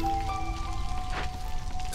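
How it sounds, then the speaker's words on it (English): A steam-powered rain punk machine waters a garden in the video game Against the Storm, a steady soft hiss of falling droplets over held tonal hums from the game's music. "an automated rain punk machine looking after the garden"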